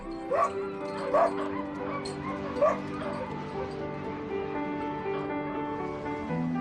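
Dogs bark in a few spaced yips and whimper steadily near a polar bear in the Arctic, the calls moderately close and running continuously, with a low wash of background sound underneath.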